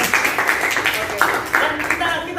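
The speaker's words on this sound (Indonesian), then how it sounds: "Oke, tepuk tangan buat kalian." A group in a counselling session claps their hands together, a brisk uneven patter of claps close by that lasts a couple of seconds.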